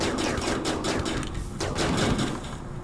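Rapid automatic turret fire in a video game, shooting at advancing impids, a dense continuous rattle of shots lasting throughout with no voice over it.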